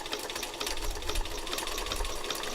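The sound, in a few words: sewing machine stitching a curved outline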